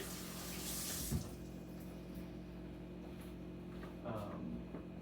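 Tap water runs steadily into a kitchen sink for washing during dinner prep of pork loin and roasted vegetables, a close, continuous splashing hiss with a brief clatter near the start.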